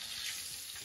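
Coconut-flour-crusted crayfish deep frying in hot oil gives a steady, soft sizzling hiss, faint and brief, with no voices.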